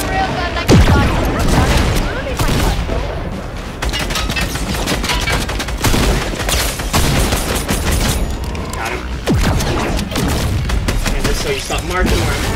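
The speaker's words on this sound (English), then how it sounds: "This guy's trying to shoot me with a rail gun" Railgun fire and other weapon blasts in the Fortnite video game come as a dense, loud run of booms and bursts, with a voice speaking over the gunfire.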